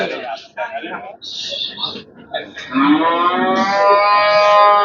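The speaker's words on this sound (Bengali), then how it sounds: "দেখি রুবেল ভাই একটু দেখি সাইড দিয়ে আমি গরুটা একটু দেখাই" A sacrificial cow at an Eid cattle market in Kamalapur lets out one long, loud, close moo that fills the second half, after a person talks nearby.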